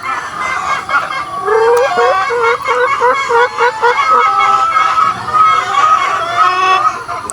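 A busy flock of chickens clucks steadily, close and loud, with overlapping calls and an occasional sharper squawk.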